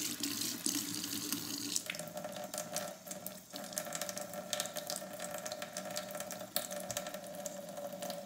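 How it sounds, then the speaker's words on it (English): Warm tap water runs steadily into a sink while hands are rinsed under it, a close, constant splashing stream whose tone shifts slightly as the hands move through the flow, with no talking. "Rinse it off in that warm water, not hot, because you don't want to burn your hand."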